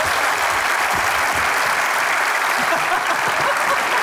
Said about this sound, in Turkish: Ne güzel alkış da almıştı